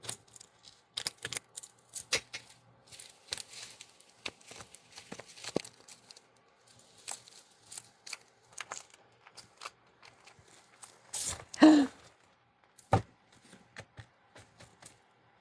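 Groups of playing cards are shuffled by hand, giving soft riffling and flicking bursts scattered through the stretch, with one louder riffle near the end. Nobody speaks, and the sound is quiet and close.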